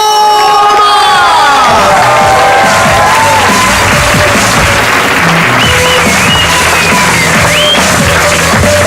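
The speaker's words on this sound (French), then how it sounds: "Faites un tonnerre d'applaudissements pour le monstre des Ardennes, Thomas." Crowd at a slam poetry night at La Cartonnerie in Reims breaks into loud, sustained applause with cheering and whoops, a dense wash of clapping and shouts filling the whole stretch.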